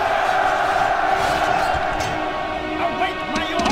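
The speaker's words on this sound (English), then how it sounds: "Now cheer, you children of Zeus, and sound the advance!" A video game army of ancient Greek soldiers roars a battle cheer before advancing, a loud massed crowd of shouting voices with sustained tonal cries, steady throughout the few seconds.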